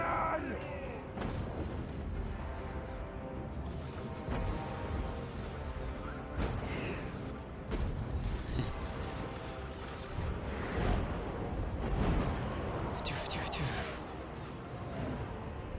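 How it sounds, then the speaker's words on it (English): Cannons firing in a Warhammer strategy battle from a Karak Kadrin dwarf campaign, several deep booming blasts spread irregularly over a dense battle din, with someone talking over it. "Cannon."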